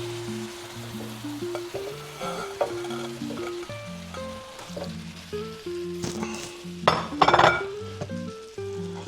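A hamburger casserole with potatoes, carrots and mushrooms being stirred in a pan, with steady sizzling and frying under repeated clinks of a utensil against the pan, a brief louder scrape near the end.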